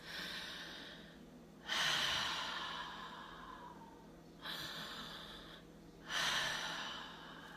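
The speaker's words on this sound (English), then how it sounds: "That's vertical breathing." Exaggerated vertical breathing, the shoulders rising with each breath: three loud, close, breathy inhales and exhales in a slow, regular rhythm, alone with no talk.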